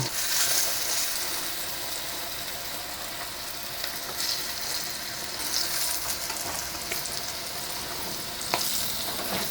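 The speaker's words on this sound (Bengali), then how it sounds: "এখন এই পিঠটাও এক মিনিটের মতো আমি ভেজে নেব" Eggplant slices fry in a little oil, a continuous bubbling sizzle with scattered crackles and occasional scraping as they are turned, heard up close without speech.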